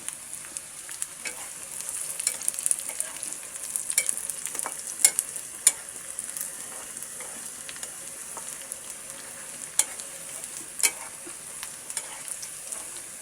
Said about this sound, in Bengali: দিয়ে দিচ্ছি পাঁচফোড়ন